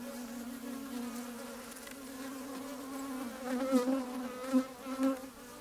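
Honey bees buzzing close by during a hive inspection, a steady droning hum that swells in short louder surges toward the end.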